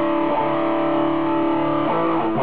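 Heavily distorted electric guitar played through a Zoom G2.1u multi-effects pedal on a Mesa Boogie amp simulation with the gain turned up, sustaining a dense buzzing chord at steady loudness, with a brief change of notes near the end.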